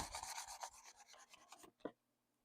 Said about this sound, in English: So I am going to hit it again with a steel wool.